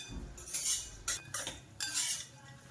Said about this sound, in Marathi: बदाम पण चांगले खरपूस भाजून घ्यायचे आहेत